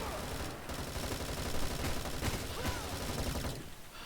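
Sustained rapid gunfire in the mobile shooter game Bullet Force, a dense continuous rattle of shots that stays loud for several seconds before thinning out at the end, with no talking.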